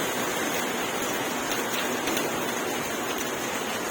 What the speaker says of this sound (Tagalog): Pabugso-bugso yung ulan dito.